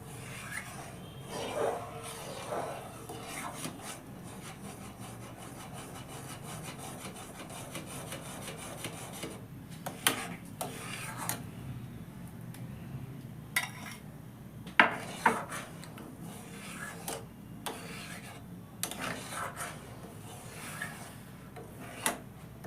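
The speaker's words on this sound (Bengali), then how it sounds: "কন্টিনিউয়াসলি নাড়তে হবে, নাহলে নিচে ধরে যাওয়ার একটা সম্ভাবনা থেকে যায়।" Mango phirni is stirred continuously in a pot, with soft rubbing and scraping of a spoon along the bottom and occasional louder knocks against the metal, close and quiet, no voices.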